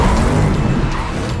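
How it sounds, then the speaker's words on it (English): Batmobile in a film car chase, loud and dense: engine roar and screeching tires run continuously at close range with no pauses and no talk. "we really fell in love with the final sequence, which is a great Batmobile chase"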